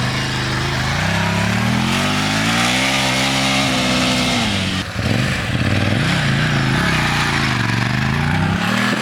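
A Ducati Scrambler Desert Sled ridden off-road over grass, slush and dusty mud, with a loud, close engine rising and falling in pitch, a brief dip in the middle, then revving hard again.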